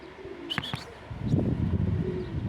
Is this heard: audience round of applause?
no